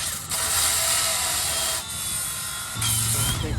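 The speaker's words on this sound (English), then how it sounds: "I think the Dremel is working better." A Dremel rotary tool grinds through metal on a 3rd Gen 4Runner frame during a solid axle swap, a loud continuous whine that dips briefly mid-way, then resumes with a lower hum near the end.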